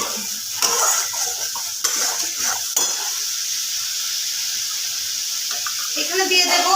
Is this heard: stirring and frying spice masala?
yes